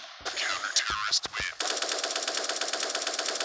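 Video game gunfire, first a few separate shots and then a sustained rapid machine-gun burst that runs steadily to the end, loud and dense, with no speech.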